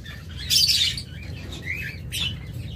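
Diamond doves kept in a bird shop colony setup give off bright chirps and calls, with a loud burst of twittering near the start and another call toward the end, over a steady low hum.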